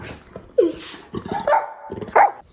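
A pet dog in a home kitchen gives several short, sharp barks and yips at close range, loud bursts spaced across a couple of seconds with quieter shuffling between them.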